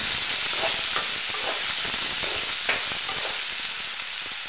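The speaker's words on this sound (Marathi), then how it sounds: "छानपैकी हलवून घ्यायचं." Sabudana and peanuts roasting in a pan give a steady broadband sizzle, with soft scraping stirs recurring every second or so, close by and alone with no talk.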